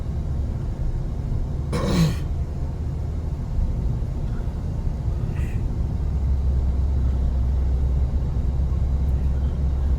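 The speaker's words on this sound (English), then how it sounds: "Right now I'm doing city driving" A 1794 Limited Edition truck is driven at low city speeds, its engine and road noise giving a continuous low rumble from inside the cab, with a short rasping burst early on and no talking.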